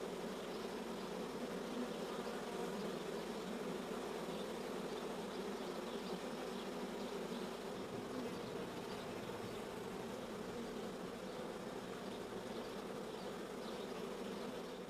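A honeybee swarm clustered on a tree gives off a continuous, even buzz that holds steady throughout with no pauses or voices.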